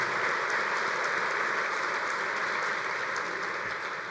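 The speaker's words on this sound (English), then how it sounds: "If you could give them a big round of applause." A convention hall audience at the 2016 USBC annual meeting gives the IBC Youth Committee a big round of applause, steady dense clapping that holds at an even, full level throughout.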